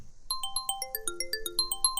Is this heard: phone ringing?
yes